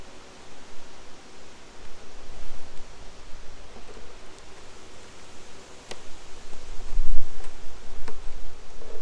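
A dense, steady hum of many honey bees buzzing close by inside a hive, with a few faint ticks and a slight swell in loudness near the end.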